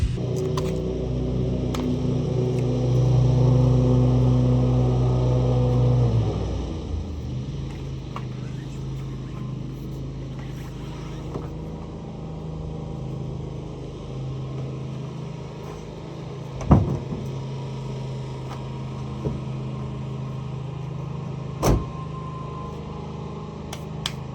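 Steady low rumble of a truck cab on the road in America, engine and road noise droning evenly with a few light knocks and bumps while carrying two trailer wheels.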